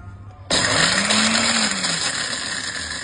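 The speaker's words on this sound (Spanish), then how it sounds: "Pues voy a hacer el intento en la licuadora para sacar el polvo" Blender switching on abruptly to grind dried soursop seeds into powder, a loud harsh whirring that jumps in after a brief quiet moment and keeps running steadily.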